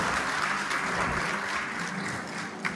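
A short stretch of continuous audience applause at a memorial trust event, even and fairly full, with no speech over it.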